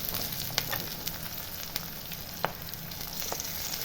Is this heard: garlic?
yes